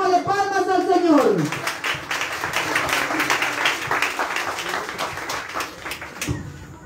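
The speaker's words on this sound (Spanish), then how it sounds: "Démosle palmas al Señor." Congregation clapping hands in praise at a Catholic novena vigil honoring Saint Raphael the Archangel; a sung or spoken line fades out, then steady rhythmic group clapping continues with voices mixed in.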